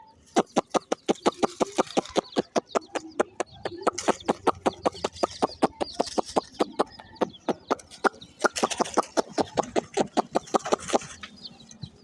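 Chickens cluck in a rapid, rhythmic series of sharp calls, close and loud, continuing throughout with brief overlapping bursts.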